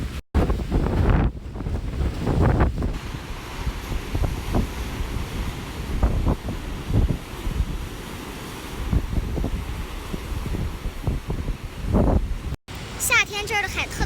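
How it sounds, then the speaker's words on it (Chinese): Strong wind blows by the sea, buffeting the microphone with low rumbling gusts under someone talking. Waves can be heard in the background, and a few sharp bumps come late in the clip. "今天又是个大风天，"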